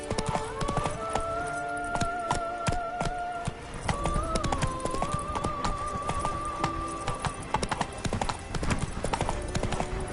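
Geralt's horse Roach galloping in The Witcher 3, rapid close hoofbeats in an unbroken rhythm with a brief whinny, set against game music and occasional voices.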